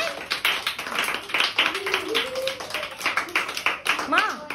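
A class of children clapping their hands in a schoolroom, a quick scatter of close claps mixed with lively talk and young voices.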